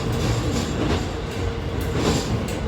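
A JR Hanasaki Line one-man train near Nemuro Station, Japan, rumbles along steadily, with a continuous low roar and rushing noise that swells and eases at moments, close by and loud, with no talking.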